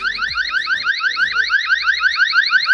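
A eufy SoloCam S340 solar outdoor security camera sounds its alarm siren, a loud, rapidly warbling electronic tone that sweeps up and down repeatedly without pause, with faint low clunks underneath.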